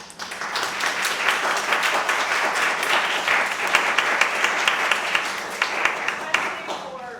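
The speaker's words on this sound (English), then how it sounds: "I want to thank Brian and give him a round of applause" An audience at a gallery talk on Brian Van Camerik's artwork applauds steadily for several seconds, a dense, close wash of many hands clapping that swells and then tapers off, with faint voices underneath.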